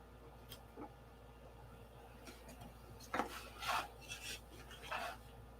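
Sandpaper rubs against a P-47 model wing piece to take out a gouge, giving quiet, short rasping strokes in small bursts. It sounds close and faint, with pauses between the strokes.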